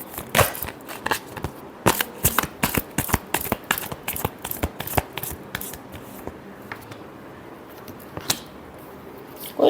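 Deck of tarot cards being shuffled by hand, a close run of crisp riffling flicks and snaps in quick irregular bursts that thin out toward the end, with no talk.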